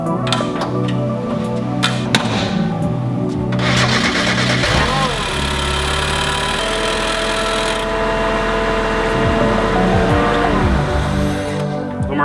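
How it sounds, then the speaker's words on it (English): A car fitted with an upgraded supercharger pulley and bigger injectors fires up and settles into a loud, steady idle, with clanking and mechanical noise close by. "So we're gonna turn the car on"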